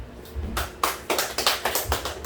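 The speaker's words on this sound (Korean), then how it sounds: "박수 한번 쳐주세요." A church congregation at a Sunday worship service in Suwon breaks into a short round of clapping, rising into several distinct strong claps over about two seconds, fairly close and with no talk over it.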